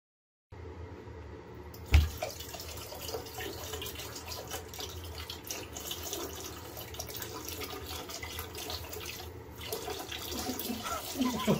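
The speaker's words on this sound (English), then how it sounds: "Oh, it's dripping." Water drips and trickles from a bell siphon, a steady wet splashing that runs continuously at moderate loudness after a short silent start, with a sharp knock near the beginning.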